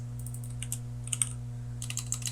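Computer keyboard typing while entering browser option values in HTML code, quick clusters of faint clicky keystrokes over a steady electrical hum, no talking.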